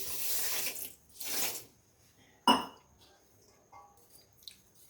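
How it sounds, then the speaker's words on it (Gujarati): Two bursts of water pouring into a pot with sugar, followed by a sharp clink of metal and quieter handling. "અડધો ગ્લાસ અડધો ગ્લાસ જેટલું પાણી ઉમેરીશું"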